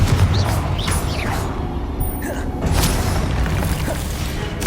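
Blasting spell explosions from a fantasy wizard action game, booming bursts layered with whooshing magical effects and game combat noise, loud and repeated throughout with no speech over them.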